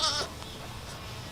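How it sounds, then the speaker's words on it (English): A Nigerian Dwarf goat in labor gives one short, close bleat, followed by a quiet, noisy background. "She's a very quiet goat, but when she's in labor, she wants to talk all about it."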